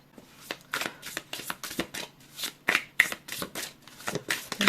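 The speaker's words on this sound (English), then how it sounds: "I feel like I should probably take these cards, but I want to really shuffle." Tarot cards being shuffled by hand in a quick series of crisp riffling bursts, each separated by short pauses, close and fairly quiet with no voices.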